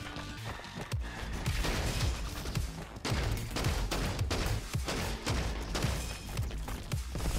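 Rapid bursts of tommy gun fire in the shooter game Roboquest, loud and dense with repeated sharp impacts over a busy game soundscape.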